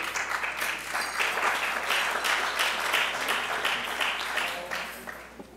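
Audience applause at a New York gala dinner, sustained clapping from a large room that swells and then tapers off near the end, heard at a moderate distance with no talk over it.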